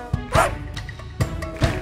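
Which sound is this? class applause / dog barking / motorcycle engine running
dog barking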